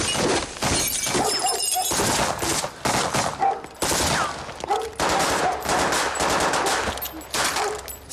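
Bursts of machine-gun and rifle fire in a Soviet spy film scene, loud and near, with rapid volleys broken by short pauses across the whole stretch and glass shattering among the shots.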